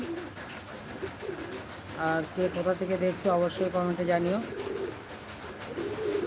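Pigeons coo in a pigeon house, a run of soft rhythmic cooing calls in the middle, close by, with a person talking before and after.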